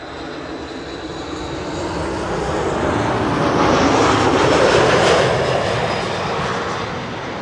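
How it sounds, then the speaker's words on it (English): An airliner on approach to Amsterdam Schiphol roars steadily as it passes overhead. The broadband engine rumble swells to a peak in the middle of the pass and then eases slightly, with no voices over it. "The airplane arriving from Cartagena."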